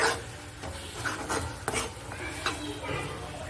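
Masala being stirred and fried in oil for egg curry, a continuous scraping and sizzling with repeated spoon strokes against the pan, close and moderately loud.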